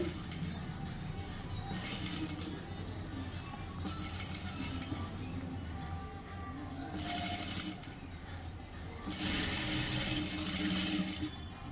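Bursts of a sewing machine stitching a princess-cut blouse front seam, several runs of rapid needle clatter separated by pauses, with a voice talking in between and over the stitching.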